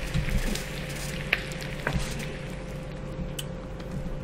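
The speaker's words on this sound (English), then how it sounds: "Let them fry up a little bit." Food frying over a campfire in the survival game The Forest, a steady low sizzle and crackle throughout with a couple of sharp pops, moderately quiet and alone.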